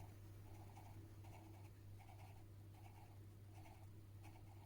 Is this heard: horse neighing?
no